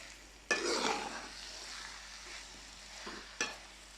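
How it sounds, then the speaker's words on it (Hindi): Khoya being stirred into carrot halwa (gajar ka halwa) cooking in a pan: a close scraping stir with soft sizzling that fades, then a second sharp scrape near the end. "अब मैं खोए को अच्छी तरह गाजरों में मिक्स करूँगी।"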